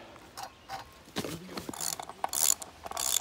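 Ratcheting clicks come in uneven bursts as a bolt is driven into a tree to hang a bear-proof deer feeder, close and fairly loud, growing busier toward the end.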